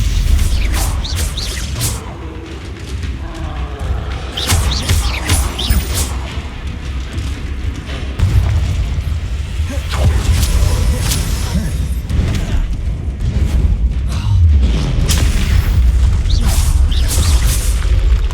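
Spell combat in Hogwarts Legacy, with repeated booming blasts, whooshes and crashing impacts piling up over a dense, loud rumbling bed of battle noise for the whole stretch.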